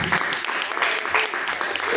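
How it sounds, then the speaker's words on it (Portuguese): A congregation claps for Jesus in a short, steady burst of crowd applause with voices mixed in. "Os irmãos batem as palmas para Jesus, glórias a Deus"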